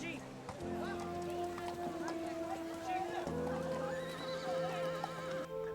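Gypsy horses at a horse event on a Texas ranch neigh and whinny repeatedly, with drawn-out wavering calls over a busy background and a voice talking throughout.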